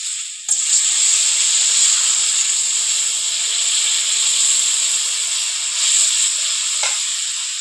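Water poured into a hot pan of fried taro curry sets off a loud, sudden hiss that holds steady as a bright, continuous sizzle, close up and alone, with a faint clink near the end.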